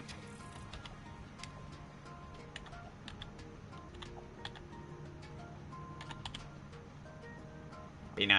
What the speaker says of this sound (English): Oh, I forgot it does the whole typing crap.